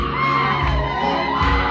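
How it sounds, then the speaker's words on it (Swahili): A church congregation ululates loudly and continuously, many high trilling voices mixed with cheering and whoops filling the space close by. "piga vigelegele"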